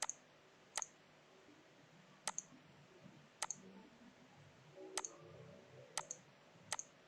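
Computer mouse clicking while Excel cell borders are drawn, seven or so sharp isolated clicks, some in quick pairs, spaced irregularly against a quiet room background.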